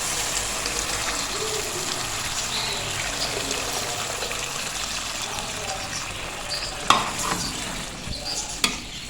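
Water is poured into white kidney bean (lobia) masala frying in a pan, giving a steady loud sizzle and bubbling hiss throughout, broken by a couple of sharp clatters near the end.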